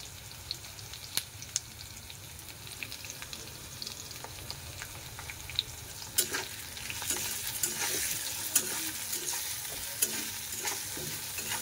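Mixed vegetables stir-fry in a pan with salt and turmeric, a soft continuous sizzle broken by frequent clinks and scrapes of a spoon that grow busier toward the end, with no talking.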